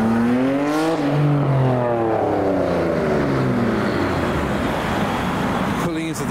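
A car pulls away and drives back up the road at a car spotting event, its engine note rising and sweeping through several gear changes, loud and steady across the clip with an abrupt shift near the end.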